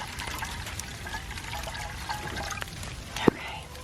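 Fresh water is poured outdoors on a snowy day, a soft, continuous trickle at moderate distance under quiet, close talk, with a brief sharp knock near the end.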